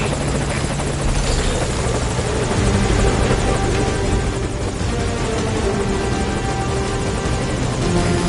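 A helicopter from Metal Gear Solid Ground Zeroes hovers with a steady, loud rotor drone and engine buzz that holds throughout, alone with no talk.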